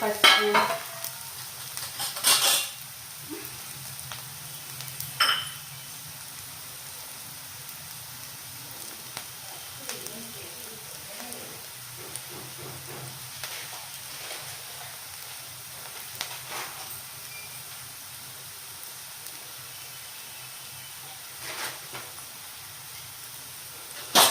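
Onions fry in a pan with a steady, moderate sizzle, occasional louder spatters and stirring scrapes scattered across a long stretch, close and without talk.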